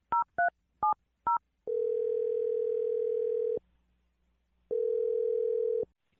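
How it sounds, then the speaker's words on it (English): Four quick dialing beeps followed by a steady telephone tone, which breaks off briefly and then resumes for a second long stretch. Loud, clear and close. "I'm going to dial the phone number right now."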